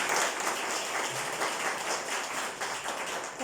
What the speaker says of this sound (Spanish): les vamos a dar un fuerte aplauso a ellos